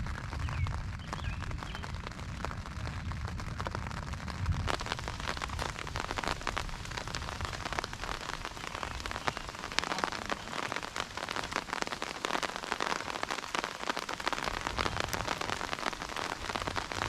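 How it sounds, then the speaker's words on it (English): Rain patters steadily on a Cold War era Czechoslovakian military surplus tent, a dense close spray of drops on the fabric that grows a little heavier partway through, with no talking. "No leaks so far. It's not raining real hard yet."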